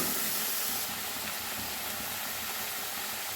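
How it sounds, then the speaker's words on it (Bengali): Masala of tomato and ginger frying in oil for a Bengali sorputi fish curry, a steady close broadband sizzle and hiss that runs unbroken and fairly loud for the whole stretch, with no talking. "মশলাটা এবারে কষিয়ে নেব যতক্ষণ টমেটো আদা কাঁচা গন্ধ না যায় তেলটা ছেড়ে নিয়ে আসে"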